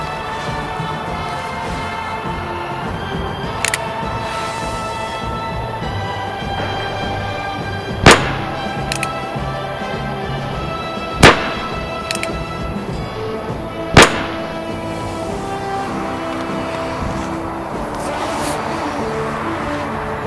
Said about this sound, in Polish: Oddam 3 strzały próbne.